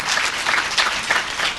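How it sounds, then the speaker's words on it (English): An audience applauds an alumnus being welcomed at a university faculty event, a steady, dense clapping of many hands that stays fairly loud through the moment with no voices over it. "Can we give him an applause,"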